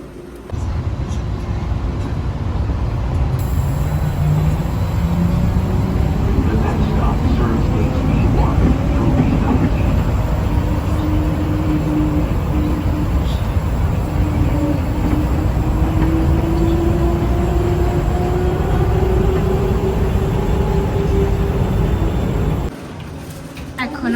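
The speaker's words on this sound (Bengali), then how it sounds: "এখান থেকে আমাদের ট্রেন নিতে হবে।" A train at a station rumbles on continuously, loud and near for most of the clip, with faint voices under the noise before it cuts off near the end.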